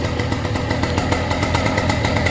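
A 78cc ATOM 80 two-stroke light aircraft engine runs with a 130 cm propeller and a WB32 carburetor, a loud, steady, buzzing drone held at constant speed, close up and with no talking.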